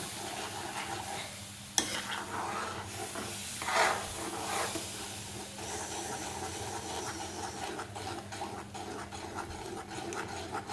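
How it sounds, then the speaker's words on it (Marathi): A spoon stirs wheat flour sheera in a pan over low gas, giving a steady close scraping and soft sizzling hiss, with one sharp clink near the start and no talking. "घाट म्हणजे त्याला चमचा फिरवतच राहायचं आहे घाटा मारतच राहायचा आहे"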